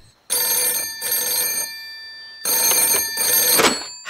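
A cartoon telephone rings loudly in two bright, bell-like bursts with a short silence between them, and nothing else is heard.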